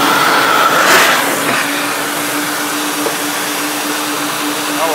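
A car exhaust runs through a Magnaflow straight-through muffler, giving a loud, steady idle drone with a slight rise and fall early on and a constant low hum.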